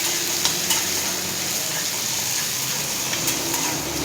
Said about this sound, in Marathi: आणि कढीपत्ता घालून घ्यायचा. थोडंसं परतून घ्यायचं.